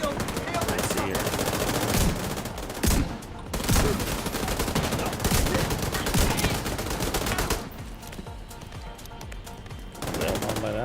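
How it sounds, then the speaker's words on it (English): Sustained turret gunfire in The Division 2's Battle for Brooklyn, loud rapid automatic bursts that run almost continuously and pause briefly a few times, with a voice talking underneath the shooting. "we've been getting shot by that turret this whole fucking time"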